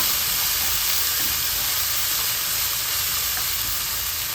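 Plenty of garlic sizzles loudly in hot oil at the start of cooking Filipino pork adobo, a dense, constant frying hiss that fills the whole stretch without a break.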